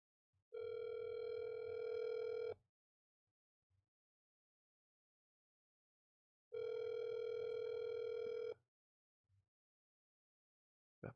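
A telephone dial tone plays over a speakerphone during a call: two steady, evenly pitched tones about two seconds each, separated by several seconds of quiet, faint and distant.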